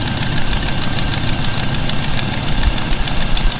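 A GM LS V8 engine idles steadily up close, a loud continuous rumble with a rhythmic knocking pulse and no talking.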